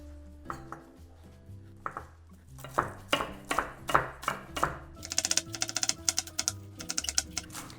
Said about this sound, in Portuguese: Cebolinha a gente vai picar.